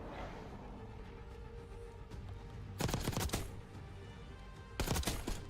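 Two bursts of rapid automatic gunfire from the Black Ops 6 beta multiplayer, each about a second long and loud against a steady low game background, separated by a gap of a couple of seconds.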